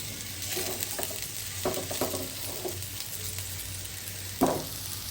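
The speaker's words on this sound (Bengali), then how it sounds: "আর একদম মুরগিটা কষানো হচ্ছে।" Chicken braising and frying in a hot pan with oil, a steady close sizzle broken by a few scraping stirs of the spoon, no voices.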